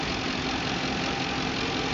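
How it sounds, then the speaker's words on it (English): A 2008 Ford Crown Victoria Police Interceptor V8 running after starting, a loud, steady, close engine drone with no pauses and no talking. "Vehicle starts."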